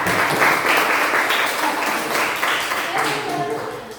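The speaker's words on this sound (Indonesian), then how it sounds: "tepuk tangan buat Sukma." A school class claps for a classmate, lively steady applause with voices mixed in over about four seconds.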